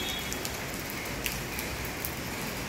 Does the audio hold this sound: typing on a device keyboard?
no